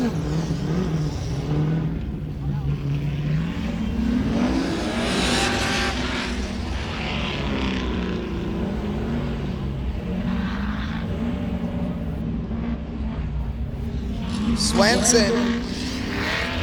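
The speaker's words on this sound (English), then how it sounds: "looking good out there in that 2011 Corvette" A 2011 Corvette C6 race car at a hill climb accelerates with a rising, rasping engine roar that swells, shifts and fades as it pulls away. A commentator talks over it throughout.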